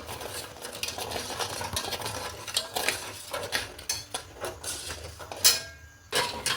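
A spoon scrapes and swirls steadily through sugar syrup as cardamom is stirred in for rava gulab jamun, a continuous close rasp with small clinks against the pan.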